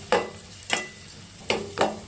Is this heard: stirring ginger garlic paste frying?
yes